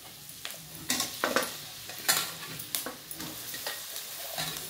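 Chicken pieces tossed into lightly browned fried onions in a pan, sizzling close up with a series of bright stirring scrapes and crackling bursts over a continuous frying hiss.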